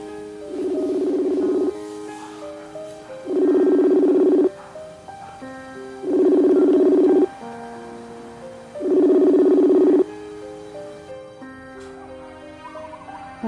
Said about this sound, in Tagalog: Subukan ko kayang tawagan si Tita Marisa.